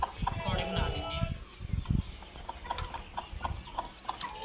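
Chickens clucking close by at a mud-house cooking area where ghee is heated for frying pakoras, short repeated clucks over steady background bustle and voices talking.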